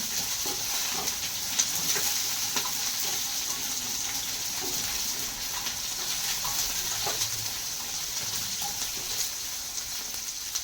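Ground spice paste with cumin sautéing in a pan, a steady close hiss of frying running evenly throughout with faint crackles and no talk.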